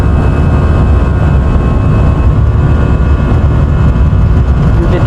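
An Airbus A320's engines roar during the takeoff roll, a loud steady low rumble with a constant whine, heard from inside the cockpit with no break.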